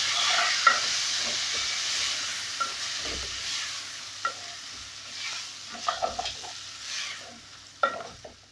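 Rice and spices for Swahili beef pilau toast in a pot with a constant bright sizzle, punctuated by a series of spoon scrapes and knocks that cluster toward the end.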